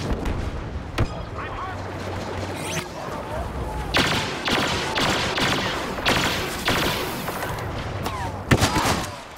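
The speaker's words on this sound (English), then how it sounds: "Someone is shooting at me." Video game gunfire in a multiplayer shooter with rebel forces and walkers, heard as dense, continuous volleys of rapid shots mixed with heavy thumps and booms, loud and sustained throughout, with louder bursts near the end.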